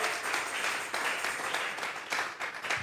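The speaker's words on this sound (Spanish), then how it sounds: "Vamos a regalarle ofrenda de palmas al Dios de la gloria" Congregational clapping offered as an offering of palms during a church service, a dense continuous patter of many hands at moderate level for about three seconds with small surges.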